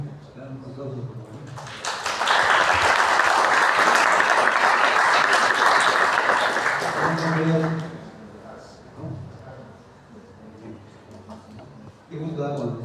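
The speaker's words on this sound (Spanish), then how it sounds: "un aplauso, por favor" An audience applauds in a steady burst of clapping for about six seconds in a class, then fades as a person resumes talking.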